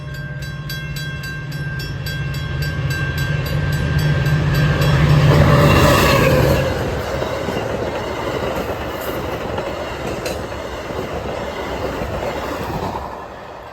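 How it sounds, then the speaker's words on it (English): Metra train 2237, hauled by special interest unit 104, expresses past Bartlett without stopping, a loud close roar that builds to a peak with a high ringing tone, then fades into a steady rolling clatter of wheels. "this one being Metro 2237. This one does not stop at Bartlett. This expresses all the way to Elgin."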